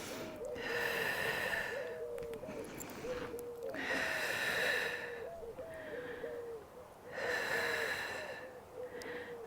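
Someone doing a Pilates leg exercise breathes in loud, rhythmic cycles up close, with long forceful exhales and sharper inhales repeating about three times over steady background music.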